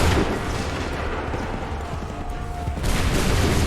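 A musket volley in Assassin's Creed 3 Remastered rolls out as a loud, dense, crackling roar of many shots blending together, sustained throughout and swelling again near the end.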